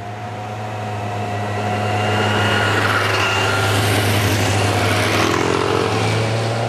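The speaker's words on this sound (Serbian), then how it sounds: "Ovdje smo u šumi, čekamo motori da prođe." Motorcycles pass along a forest road, their engine drone swelling from moderate to loud and holding steady as they go by, with no talk over it.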